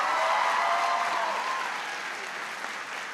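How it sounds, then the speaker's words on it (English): Audience applause after a speech, a dense burst of clapping from a large crowd that slowly tapers off over a few seconds. "Please give him a big round of applause."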